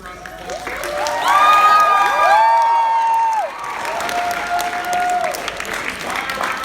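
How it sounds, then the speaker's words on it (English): A theatre company's closing meeting for a Seussical production erupts in sustained applause, with high whoops and cheering voices rising over the clapping throughout. "Give her another round of applause."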